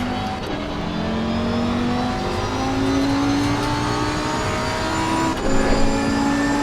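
A Porsche race car in the video game Assetto Corsa Competizione, its engine holding a steady loud drone with rising and falling pitch as it revs, heard alone and close from the cockpit.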